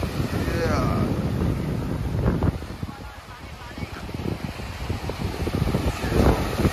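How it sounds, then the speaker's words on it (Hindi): Strong wind at a seashore on the Mumbai waterfront buffets the microphone in loud, gusty rumbles with surf-like wash, continuous throughout the short stretch. "पर हवा बहुत तेज चल रहा"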